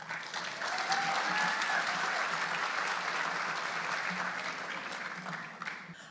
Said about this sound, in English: Another round of applause for our life-saving awards recipients, please